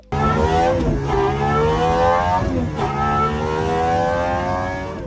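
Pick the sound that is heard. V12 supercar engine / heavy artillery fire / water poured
V12 supercar engine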